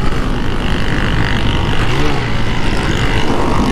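Honda Start 160 motorcycle riding, a loud continuous engine drone with heavy wind rush, close and steady throughout.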